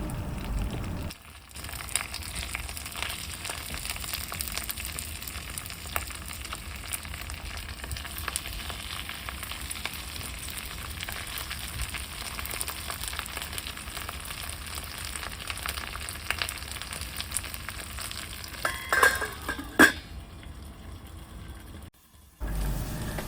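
Gourd-leaf packets with green and dried chillies frying in mustard oil in a pan, a steady close sizzle that runs almost unbroken, with a couple of brief clatters near the end.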